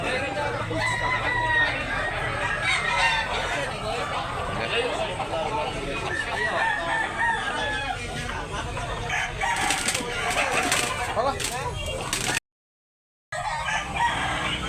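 Roosters crow among clucking fowl at a chicken market in Tabunok, Talisay, Cebu, while people chatter almost constantly over the birds.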